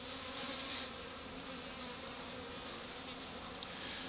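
A steady, dense buzzing of many bees fills the air, continuous and unbroken, with no voices.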